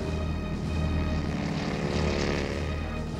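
Propeller aircraft launched from a Lexington-class aircraft carrier at sea, a steady droning engine and propeller roar holding at an even level throughout, fairly distant and with no voices.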